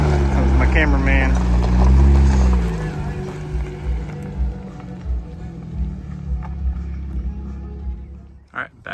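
A tractor moving dirt on a farm gives a heavy, low rumble that swells loudly at first, then fades to a quieter idle with faint knocks. A sharp clatter comes right at the end.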